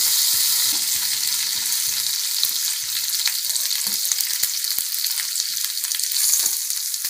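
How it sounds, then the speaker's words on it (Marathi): Seeds crackling and popping in hot oil, a dense sizzle with sharp irregular pops throughout, close and loud, no voices. "थोडंसं जिरं आणि मोहरी तडतडली की यात थोडासा हिंग घालायचा"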